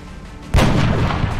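Gunfire in the video game XCOM: a single loud, booming shot cracks in suddenly after a quiet lead-in and rolls into a long, heavy rumbling tail.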